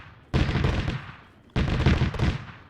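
Two heavy autocannon bursts from a truck-mounted ZU cannon in a military video game, each a sharp loud blast that rumbles and decays over about a second, spaced a little over a second apart.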